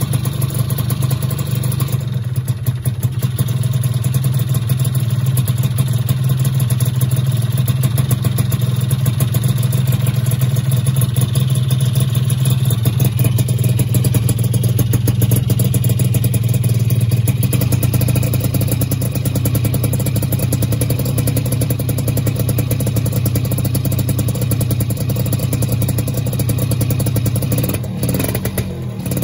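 A Yamaha F1ZR motorcycle with an aftermarket exhaust idles continuously, giving a steady, close, rumbling engine note with light mechanical clatter and no talking throughout.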